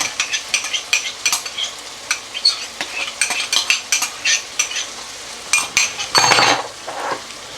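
Yogurt stirred into sizzling chicken korma in a pot, with busy, quick scraping and clinking of a spoon against the metal over a steady hiss, close and loud, with a brief louder sizzle burst near the end.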